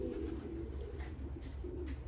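Pigeons cooing close by in a low, soft, rolling murmur that stays steady and continuous, with faint chirps above it and no talking.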